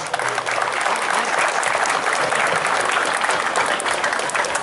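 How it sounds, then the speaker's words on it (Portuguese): Crowd applause during an outdoor cowboy festival mass honoring cowboys, a dense, steady wash of clapping sustained at full loudness throughout with no talk over it. "Uma salva de palmas."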